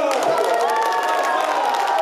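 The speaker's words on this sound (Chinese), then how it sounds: "现场国民党立委以鼓掌叫好" Kuomintang legislators clap and cheer inside Taiwan's Legislative Yuan chamber during the vote count for a new speaker, a dense, steady wash of applause and shouting voices that stays loud throughout.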